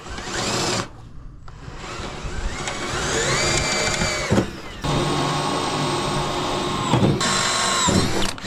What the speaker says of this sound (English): Alright, we got our holes drilled.